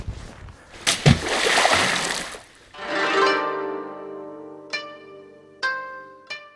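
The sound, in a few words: shiitake log dunked into water, splashing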